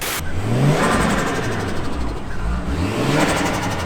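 A Citroen Saxo engine revs hard and steadily at close range, its droning pitch rising and falling through several surges with no talking.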